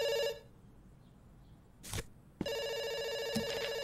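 An electronic telephone bell rings steadily in Dr. Langeskov, The Tiger, and The Terribly Cursed Emerald (2015), cuts off briefly around a soft thump and rustle, then resumes with a loud, continuous trill.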